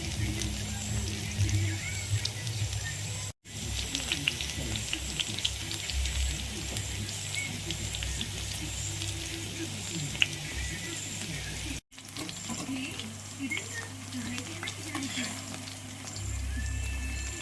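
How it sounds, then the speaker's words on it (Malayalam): Soybeans fry in hot oil in a home kitchen, a steady crackling sizzle running throughout with brief breaks, while someone talks over it. "അതാണ് സോയാബീൻ അത് വറുത്ത് കോരി എടുക്കുകയാണ്."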